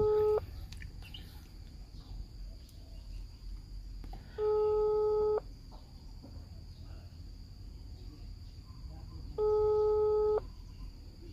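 Telephone ringback tone on an unanswered call played over a speaker, three steady one-second tone bursts spaced about four seconds apart over a constant background hum and hiss.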